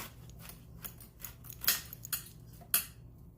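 A knife slices through vegetables for gumbo on a cutting board, giving a few sharp, close cuts and taps spaced irregularly over a quiet room hum.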